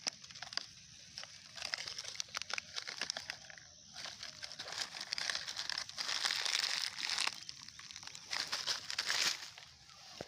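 Old plastic garbage being picked up and crumpled by hand in a polluted village area outdoors, a continuous close crinkling and crushing with sharp crackles and brief pauses.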